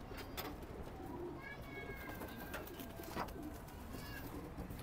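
Young racing pigeons coo in a loft, soft repeated cooing calls scattered over a faint, steady background rustle.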